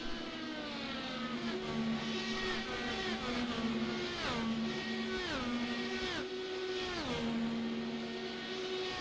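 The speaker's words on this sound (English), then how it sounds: "We're watching right now Brendan Truss coming up to speed, and he's back on the oval" An IndyCar race car on the Gateway oval in iRacing, with several engine notes climbing and dropping through repeated upshifts as it comes up to speed on new tires, loud and steady throughout.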